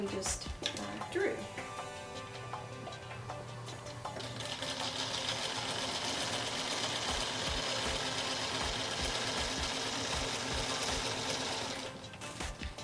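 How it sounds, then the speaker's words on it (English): A sewing machine stitches a diagonal line across fabric squares, its needle running in a fast, steady mechanical whir for several seconds after some handling noises, close and clear, slowing to a stop at the end. "We're back at the sewing machine"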